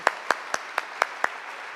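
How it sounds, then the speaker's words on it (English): Six evenly spaced sharp claps ring out in a film festival Q&A room, a single person clapping slowly with a faint room hum between. "so I want to clap for you."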